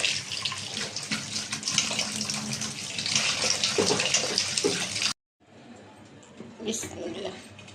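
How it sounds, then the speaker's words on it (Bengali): Salted fish, a surma fish prepared for frying, rinsed under a running tap: a loud, steady gush of water splashing into a sink that cuts off abruptly, followed by quieter handling noises and a short final splash. "মাছটা লবণ মেখে রেখেছিলাম এখন একটু ধুয়ে নেব"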